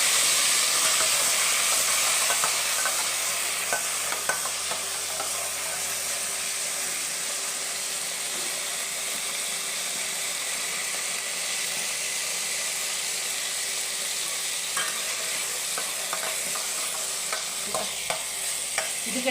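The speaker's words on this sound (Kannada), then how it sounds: "ಇವಾಗ ಟೊಮೊಟೊ ಹಾಕ್ತಿದ್ದೀನಿ." Tomatoes being stirred into onions frying in a pan, a loud, continuous hissing sizzle with steady scraping from the spoon, close by and without speech.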